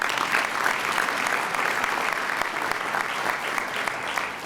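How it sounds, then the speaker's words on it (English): A large audience at a scholarship jazz brunch claps steadily for college presidents, a dense, even wash of applause that holds for several seconds without pause. "Give a big round of applause to the presidents of these incredible institutions"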